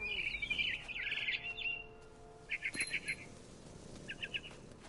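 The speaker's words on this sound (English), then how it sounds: "I tried to be quiet, but the bird was really scared." Bird chirping in the video game What Remains of Edith Finch: a faint warbling call early on, then a few short quick bursts of high chirps, all quiet with no talking.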